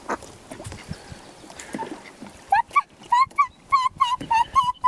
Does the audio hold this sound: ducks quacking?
yes